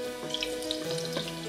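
Garlic cloves drop into oil heated to moderate warmth in a wok, giving a soft, continuous sizzle and crackle that holds steady for the whole moment, with a faint tonal hum in the background.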